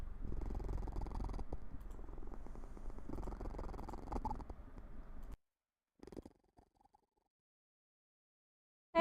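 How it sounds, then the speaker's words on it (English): A cat purrs close and steady for about five seconds, a low continuous rumble, then cuts off to near silence with a few faint soft noises. "that purring is fucking adorable"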